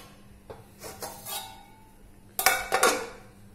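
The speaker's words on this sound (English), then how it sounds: "And we are now putting on the lids." Lids set onto pans heating on a stovetop while Thalipeeth cook: a few light metallic clinks early on, then two louder, ringing clanks close by, with a faint background hum and no speech.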